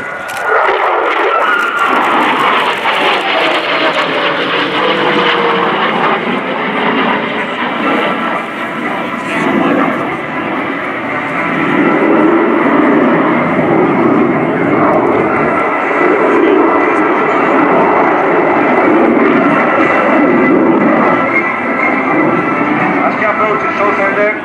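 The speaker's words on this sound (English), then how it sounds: "On your right, the F-16 and the knife edge pass." A Hellenic Air Force F-16 Fighting Falcon roars past in a knife-edge fly-by at an airshow, its loud, sustained jet rumble shifting in pitch as it passes, with a voice speaking over it.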